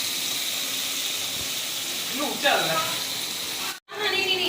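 Plain sliced onions sauté in hot oil for a chicken gravy, giving a continuous close sizzle. Brief voice-like sounds rise over the hiss midway, and the sound cuts out for a moment before resuming.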